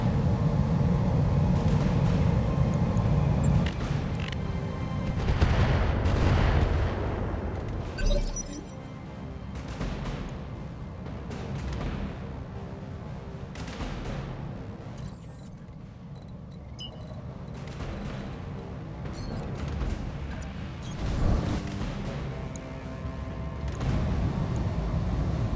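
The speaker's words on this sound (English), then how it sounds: "got him with the cannon" Cannon fire and crashing impacts in the mech combat video game Roguetech, several heavy booms and shattering hits spaced irregularly over a rumbling battle background.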